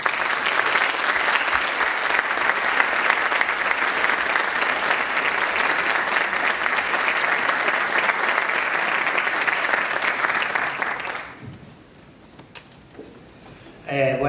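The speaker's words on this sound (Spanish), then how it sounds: "Un fuerte aplauso para él." Strong, sustained audience applause at a youth contemporary orchestra concert, dense and even for about eleven seconds before cutting off abruptly, followed by a brief quiet and the start of speech.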